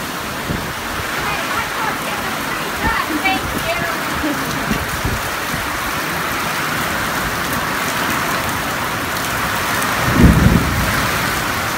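Heavy rain falls steadily during an approaching thunderstorm, with low rumbles of thunder under the downpour and a louder, closer thunder roll near the end.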